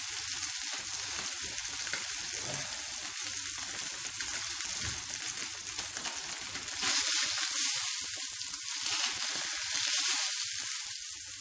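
Kotlety patties fry in oil in a frying pan, giving a loud, continuous close-up sizzle and crackle that swells briefly partway through, with no voices.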